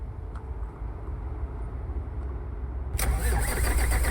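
A truck engine in American Truck Simulator cranks over a low background rumble, then catches with a sudden loud burst at about three seconds and settles into a rough, steady idle.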